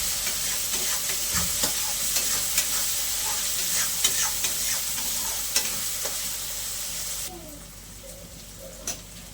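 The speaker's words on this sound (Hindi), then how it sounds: "इसको अच्छे से गलने तक हम अच्छे से भून लेंगे ताकि अच्छे से टमाटर और प्याज वगैरह सब कुछ अच्छे से गल जाए।" Onion and tomato fry in a pan with salt, a close, continuous sizzle with spatula stirring and scraping, dropping quieter near the end.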